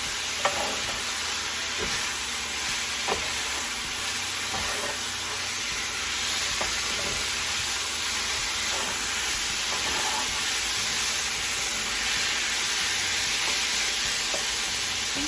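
Thin strips of Philly steak meat sizzle steadily and loudly in a hot pan, with occasional scrapes and soft clicks as they are tossed, and no talking.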